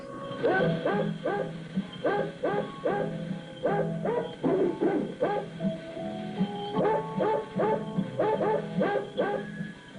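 Dog barks and yips are strung together into a recognizable tune, pitched notes following one another in a bouncy rhythm.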